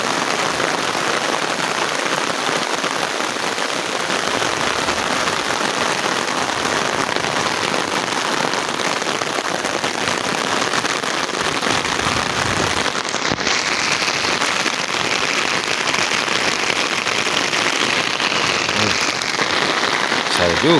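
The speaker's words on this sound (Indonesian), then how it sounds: "Besar juga ya hujannya." Heavy rain pours steadily over the rural Sundanese countryside of West Java in the morning, a dense, loud, unbroken hiss of drops on surfaces that stays constant throughout.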